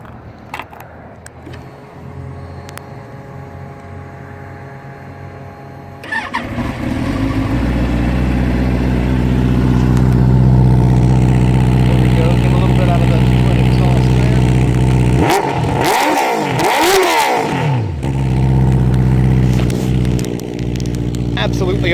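A 2017 Benelli TNT 600 motorcycle engine starts after a short crank and idles steadily and close, with a brief throttle blip partway through and someone talking early on.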